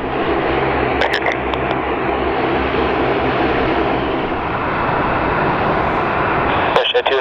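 A WestJet Boeing 767-300ER (WL) arrives at Calgary Airport, a loud, steady broadband jet roar that holds throughout and drops away sharply near the end, with faint tonal whines riding over it.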